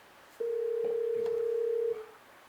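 A single steady telephone tone sounds for about a second and a half, clear and moderately loud, with faint room background around it.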